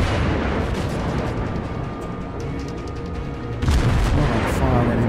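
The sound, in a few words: naval gunfire in World of Warships video game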